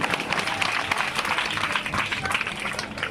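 Audience at a Navaratri devotional discourse applauding steadily, a dense wash of many hands clapping at close range with no pauses, crowd noise filling the whole stretch.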